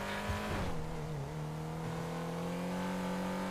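A car engine revs up loudly and then settles into a steady high drone, close and alone, with a brief tire-like squeal early on.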